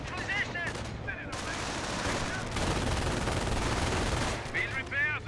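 Bursts of gunfire and machine-gun fire hit German Grenadiers in the Company of Heroes 1 battle, a dense, sustained crackle of shots and explosions that runs for several seconds, with voice barks at the start and end.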